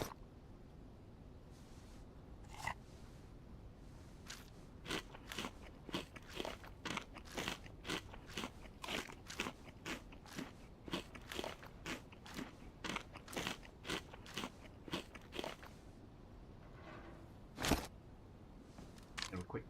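Food is eaten in the survival game DayZ, heard as a long series of crisp crunching bites and chewing clicks repeating at an irregular rhythm, fairly close and faint under a soft background.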